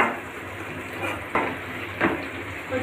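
Onions frying in a kadai make a steady close sizzle, with a few louder stirring scrapes standing out from the hiss.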